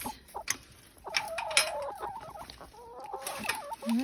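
Hens cluck and chatter in their run on a snowy day, a steady close stream of soft, warbling clucks with a few sharper calls, and no talking.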